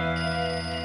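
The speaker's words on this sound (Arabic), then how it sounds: "دق الجرس" A school bell rings in a classroom, a steady sustained electric ring that carries loud and unbroken through the whole moment with no voices over it.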